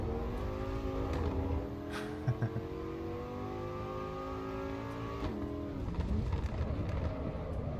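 Lamborghini Revuelto race car engine in a racing simulator, a steady, loud droning whine with rising and shifting gear tones, continuous throughout with no talking.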